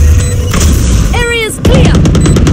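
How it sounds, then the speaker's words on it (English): A swarm grenade detonating in Valorant, a loud close burst of rapid popping blasts with electronic announcer tones mixed in. "Swarm grenade."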